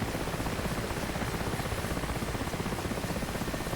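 Steady, dense rotor and engine roar of an Mi-8 helicopter in the DCS World flight simulator game, a constant broadband wash with faint rhythmic pulsing and no talking.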